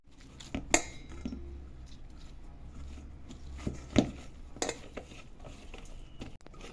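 Flour dough with oil being kneaded and pressed by hand in a kitchen, giving soft irregular thumps and slaps with occasional clinks of utensils, steady and close, no voices.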